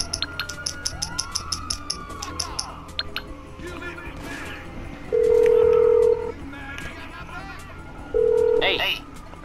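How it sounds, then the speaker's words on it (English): A phone call rings in the video game Grand Theft Auto V. A steady electronic tone sounds in two separate bursts of about a second each, over busy game sounds with what seems like a siren, and a voice talks faintly underneath. "If my homeboy Lester don't answer the phone"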